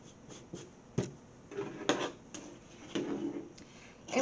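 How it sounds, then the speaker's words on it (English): Scissors snipping through the seam at the bottom of a flattened shirt, a series of crisp close cuts at irregular intervals with short pauses between them, no talking. "First thing we're going to do is cut the seam."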